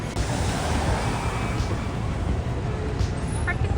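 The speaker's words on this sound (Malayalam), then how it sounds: "ഈ കടലിന്റെ എസ്തെറ്റിക്സ് ഉണ്ട്" Sea waves breaking on a shore roll as a loud, constant roar mixed with wind buffeting the microphone, with no talk over it.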